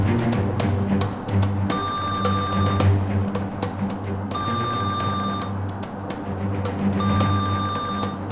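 A telephone rings in three long bursts while a call to a father is placed, heard over a steady low background of drama score.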